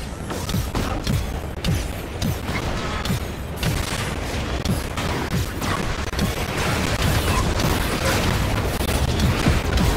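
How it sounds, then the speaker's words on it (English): Dense rocket explosions and heavy gunfire from the video game Marvel's Avengers roll on without a break, loud and booming throughout a chaotic battle with no talking. "Those rockets are doing a lot of damage."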